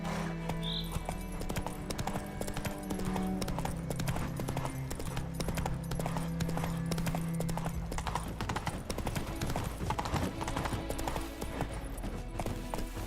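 Horse hooves clip-clop in a steady, continuous rhythm while riding in the video game The Witcher 3, set against constant game ambience and music for the whole stretch, with an occasional faint whinny.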